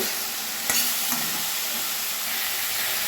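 Vegetables fry in a pan with a steady, close sizzling hiss, broken by one or two stirring knocks, with no voices.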